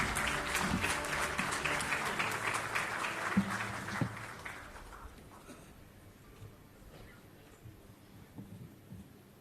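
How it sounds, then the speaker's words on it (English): A gathering at a business excellence awards ceremony claps in welcome, loud and dense for about four seconds before tapering off into quiet room noise. "Can we have a round of applause for Sir?"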